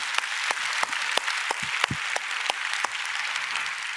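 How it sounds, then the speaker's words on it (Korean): A church congregation applauds in encouragement for missionaries during a Sunday worship service, a steady wash of clapping with distinct loud individual claps punctuating it at a regular pace. "우리 선교사님들 위해서 격려의 박수 내주십시오."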